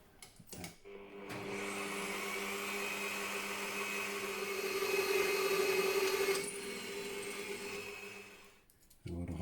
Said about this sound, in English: A lot of holes drilled.